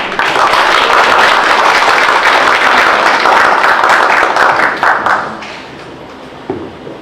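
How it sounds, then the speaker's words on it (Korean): An audience at an art symposium gives sustained applause, a dense wash of clapping that holds steady and then thins out and fades, with a few scattered claps at the end. "큰 박수로 부탁드리겠습니다."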